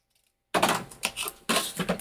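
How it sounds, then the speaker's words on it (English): Scissors cut mitered corners on a paper tab: two close, crisp snips about a second apart, each a quick crunchy slice, with no talking. "let me just grab my scissors. And I'm just going to miter the corners."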